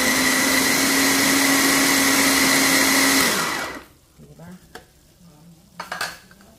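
An electric food chopper whirs loudly and steadily while chopping carrots, then stops abruptly, leaving a few soft knocks and handling sounds in the quiet.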